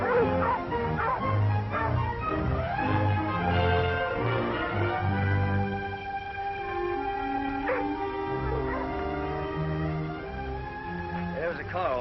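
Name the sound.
dogs barking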